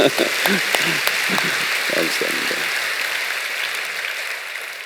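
Crowd applause at a Friday night church service, a steady wash of clapping from many people, with a voice speaking over the first part.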